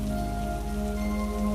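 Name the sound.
rain falling at night in cartoon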